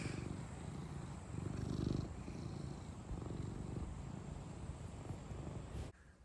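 A drooling cat purrs close by, a soft, low, rhythmic rumble that pulses steadily and then cuts off near the end.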